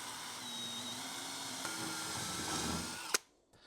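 A power drill bores holes into a wall for a shower mixer, a steady whining run of about three seconds that cuts off abruptly into near silence.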